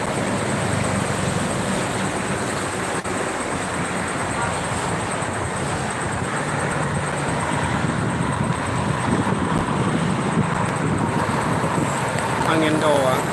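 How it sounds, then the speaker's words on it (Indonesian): Strong wind buffets the microphone beside a busy toll road toward Jakarta, a loud continuous roar and rumble with passing traffic underneath, steady throughout with no pauses. "Angin gede-gede."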